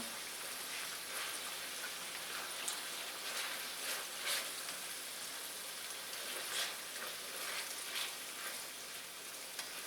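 Mongolian beef frying in a pan with sesame oil sprinkled in, giving a steady, moderately quiet sizzle with faint crackles throughout and no voices.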